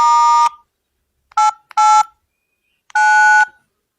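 Telephone keypad dialing tones sound while placing a call: four clean electronic beeps, two longer and two short, separated by silence.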